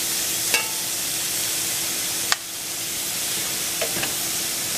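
A steak sizzling in a hot pan just after being flipped, giving a steady, close frying hiss broken by a few sharp pops and clicks, with no voices.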